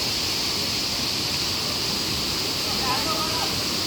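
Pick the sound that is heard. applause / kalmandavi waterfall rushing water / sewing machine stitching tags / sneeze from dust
kalmandavi waterfall rushing water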